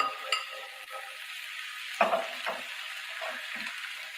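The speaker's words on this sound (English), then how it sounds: "I like to add all my fragrant stuff in first, right? So my onions in" Onions, ginger, garlic and scallions fry in hot smoky oil, a steady sizzle with a spatula scraping and stirring against the pan in a few sharp strokes, close and alone.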